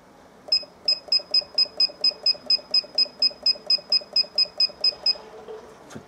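A digital kitchen timer beeps in a steady run of about sixteen evenly spaced, bright beeps, close and clear, after the boil on a Grainfather homebrew day.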